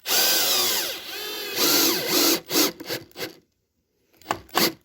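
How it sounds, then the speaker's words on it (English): A power drill whines up and slows as it pre-drills screw holes in a wooden Langstroth beehive, in a few bursts of rising and falling pitch, close by. "we want to make sure that we pre-drill the holes again"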